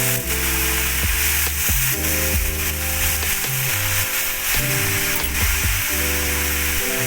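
Chopped red spinach is stir-fried in a pan, a steady close sizzle and hiss running throughout, with background music over it and no talking.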